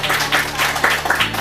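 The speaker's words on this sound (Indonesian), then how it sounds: "Aplaus." A short burst of applause from attendees at a secretary and personal assistant training session in Indonesia, a brisk patter of many hands over faint background murmur.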